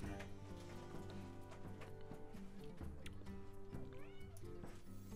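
Cat meows sound during a Hearthstone card game, a few pitched, sliding mews over busy game music and effects, close and moderately loud.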